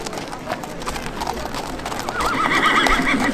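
Franches-Montagnes horses presented at a spring fair: hooves clip-clop steadily on hard ground, then a loud whinny rises near the end, amid busy crowd noise and voices.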